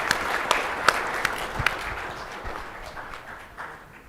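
A conference audience breaks into applause, a dense patter of clapping that is fairly soft and slowly tapers off over a few seconds.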